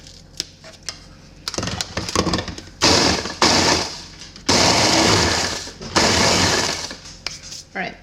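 A whole pack of graham crackers is pulverized into crumbs in bursts of loud whirring and grinding. The bursts come in irregular pulses with short pauses between them, starting with sparse rattling clatter.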